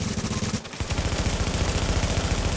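Rapid automatic gunfire in the video game Tom Clancy's The Division, loud and sustained, with dense repeated bursts after a brief pause.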